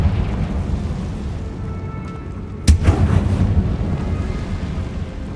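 A single sharp Confringo fire spell blast in the video game Hogwarts Legacy, a loud crack midway followed by a short rumbling tail over steady game ambience.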